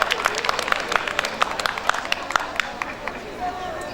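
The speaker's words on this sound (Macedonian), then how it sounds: "Ве молам еден огромен аплауз и за нашиот следен уметник" An audience at a 2022 ceremonial academy for International Nurses Week breaks into lively applause, dense rapid clapping that thins out toward the end.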